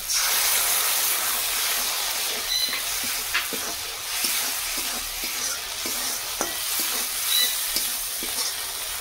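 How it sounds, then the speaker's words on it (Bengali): Sour curd thinned with a little water is whisked in a bowl, soft repeated beating strokes ticking over a steady hiss. "এখানে টক দইয়ে একটু সামান্য জল দিয়ে টক দইটা একটু ভালো করে ফেটিয়ে নেব।"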